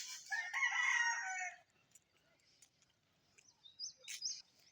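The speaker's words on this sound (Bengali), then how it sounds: "পুকুরের পাড়ে হচ্ছে মুরগিরা খেলাধুলা করতেছে" A rooster crows loudly and close at a village pond bank where chickens roam, followed by a few fainter scattered clucks and calls.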